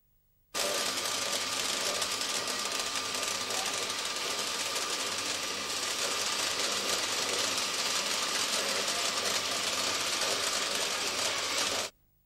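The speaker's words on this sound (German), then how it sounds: "Hier bekommen die Blechscheiben ihren Rand." A coin minting machine rolling rims onto metal blanks for groschen coins runs as a loud, continuous mechanical drone with a fine rapid chatter, starting abruptly and stopping just as suddenly after about eleven seconds.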